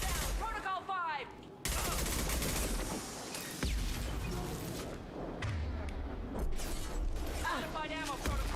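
Rapid gunfire crackles through a Mass Effect 2 firefight, with dense bursts of shots and thuds layered over loud battle noise and occasional voices throughout.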